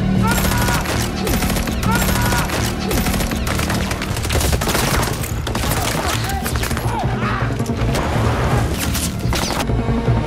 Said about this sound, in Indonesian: Tiba-tiba dia dicegat oleh rentetan tembakan dari sekumpulan pria bertopeng